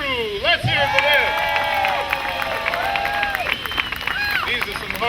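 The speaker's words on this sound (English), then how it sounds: "please, another round of applause for Ringling Brothers and Barnum and Bailey's very own train crew" Outdoor crowd applause and cheering for the Ringling Brothers and Barnum and Bailey circus train crew at a steam-hauled circus train arrival, steady clapping throughout with voices and chatter mixed in.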